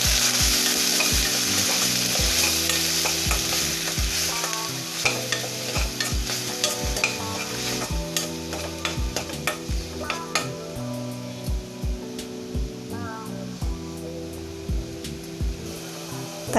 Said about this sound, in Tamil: லைட்டாக கலந்து விடுவோம். நல்லா மிக்ஸ் பண்ணிடுவோம்.